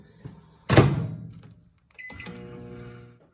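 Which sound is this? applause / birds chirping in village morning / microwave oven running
microwave oven running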